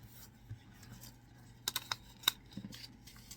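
A printed sublimation design for a 15oz mug being cut out with scissors, giving a few quick crisp snips and paper rustles, close and quiet.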